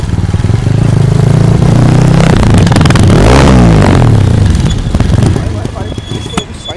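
A motorcycle engine revs up hard and loud close by, rising in pitch to a peak and then easing back down, with people talking over it.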